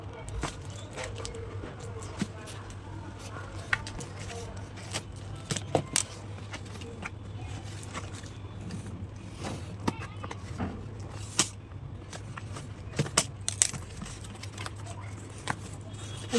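An online shopping parcel is torn open at one side, giving scattered crinkles, rustles and sharp plastic crackles that come in irregular bursts and grow busier toward the end.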